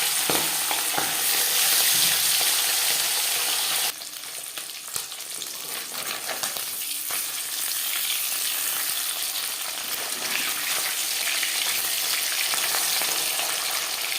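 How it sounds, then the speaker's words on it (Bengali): Marinated pabda fish fries in hot refined oil, a loud, dense, continuous sizzle that drops slightly in level after about four seconds, then crackles steadily on, close and uninterrupted. "চার চামচ রিফাইন্ড অয়েল গরম করে নিয়েছি এবার দিয়ে দেবো ম্যারিনেট করে রাখা মাছ"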